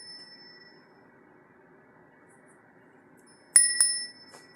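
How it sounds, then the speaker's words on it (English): A small hand-held bell with its clapper removed, struck by hand: a faint lingering ring fades early, then after a quiet pause two bright, close metallic strikes ring out loudly and decay, alone without talk. "This was a bell that was my grandmother's, and I took the little clapper out of it so I could control it."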